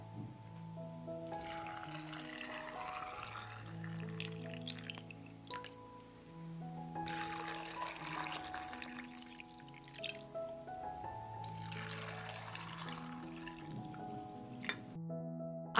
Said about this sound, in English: I pour cold water into the jars to cover the grapes